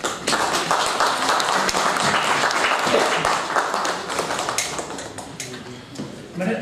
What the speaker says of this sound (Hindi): तो आप सबकी तालियों में मोहतरमा इरफाना अमर साहब